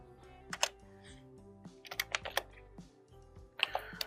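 Keys clack on a computer keyboard as a spreadsheet formula is typed, close and fairly quiet, in short irregular bursts of taps with brief pauses between them, no voices.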